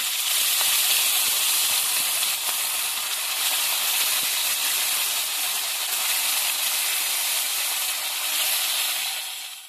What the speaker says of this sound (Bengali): এবার আমি তেলের মধ্যে মাছগুলো ছেড়ে দিচ্ছি।